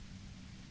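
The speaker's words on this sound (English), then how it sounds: "you can do it through the white noise." Steady white noise static from the video game Disco Elysium, a flat, unbroken hiss filling the short moment at low level with no other sounds.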